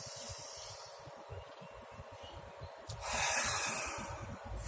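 Slow, deep human breathing, each long inhale and exhale drawn through the nose and mouth with a soft airy hiss, close to the listener, with a fuller, louder breath swelling near the end and no talking.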